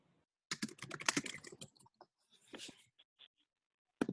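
Typing on a computer keyboard, close and clear: a quick burst of rapid key clicks, then a few scattered taps after a short pause, and one more cluster of keystrokes at the end.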